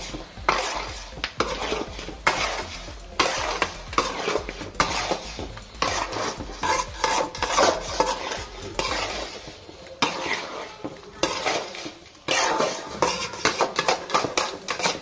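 Spoon stirring and scraping a pan of Telugu-style chicken fry with chicken masala and spices, continuous clinking utensil scrapes over a soft background sizzle, no talking.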